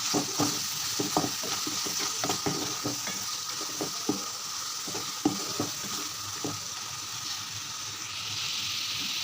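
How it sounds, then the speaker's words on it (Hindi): Chana dal masala being stirred and fried in a pan, a steady close sizzle with repeated scraping stirs throughout, no voices. "तो इसको मिक्स कर लेंगे और इसके अच्छे से भुनाई करेंगे।"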